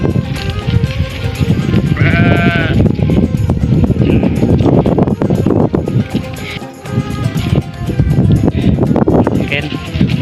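Fat-tailed sheep bleat in a few wavering calls amid a loud, noisy outdoor din with people talking throughout.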